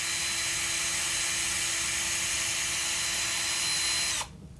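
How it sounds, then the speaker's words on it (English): A Ryobi power drill with a small bit bores into plastic Hot Wheels Speed Snap track. The motor gives a loud, steady high whine close by for about four seconds, then cuts off abruptly into quiet. "I think this 564 drill bit's about the right size"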